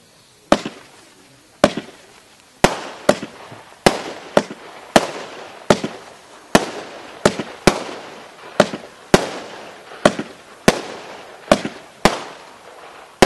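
A 25-shot 20mm Category 2 firework cake fires in a steady sequence of sharp, loud bursts, roughly two per second, each shot cracking and ringing out before the next, with no talking.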